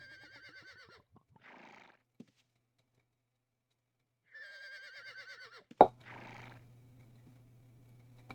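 Two horse neighs in the Ultima Online modded shard Ultima Adventures, each a loud wavering whinny a few seconds apart, with snorts after each, a sharp thud, and then a low steady hum.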